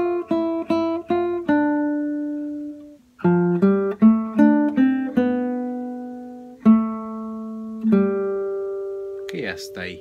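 Plucked acoustic guitar picks out a melodic phrase from a song, single notes ringing in quick runs then held, clear and close with no talking.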